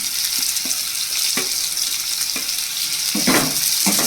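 Onions frying with carrots in a pan for chow mein, a loud steady sizzle broken by a few scraping stirs, close by and with no one talking.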